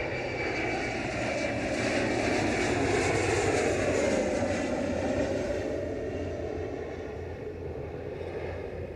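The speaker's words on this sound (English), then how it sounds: "Every 2 minutes or so, I got a big stupid jet plane flying right over top of me." A big jet plane passes directly overhead a backyard vegetable garden during cucumber planting, a loud, steady broadband roar that swells and slowly fades over about nine seconds, with no talking.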